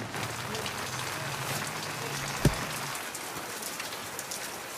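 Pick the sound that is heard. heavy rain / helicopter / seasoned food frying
heavy rain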